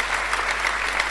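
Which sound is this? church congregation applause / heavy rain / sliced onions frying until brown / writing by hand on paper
church congregation applause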